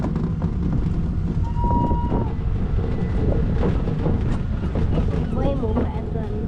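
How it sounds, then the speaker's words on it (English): A Butlins road train runs along the seafront with a continuous loud rumble and strong wind buffeting the microphone, while people talk over it. "We are up on the train."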